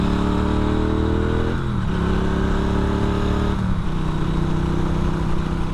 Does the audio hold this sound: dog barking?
no